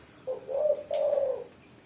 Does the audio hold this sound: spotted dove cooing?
yes